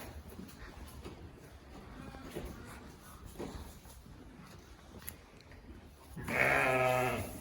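Ewes on a smallholding at feeding time, with one loud, close, wavering bleat near the end over a quiet, rustling background.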